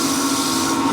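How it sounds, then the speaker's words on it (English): A scraper shear-cuts a spinning wooden bowl on the lathe, giving a steady, close, continuous rasping hiss with the hum of the lathe underneath. "Some shear scraping."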